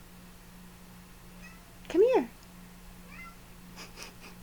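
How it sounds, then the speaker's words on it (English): A small cat gives one short rising-falling meow at close range, set against a steady low hum, with a person speaking briefly around it. "he's got the cutest little meow."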